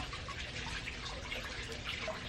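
Water falls steadily in a garden water feature beside meditating Buddha statues, making a faint, continuous splashing trickle with no voices.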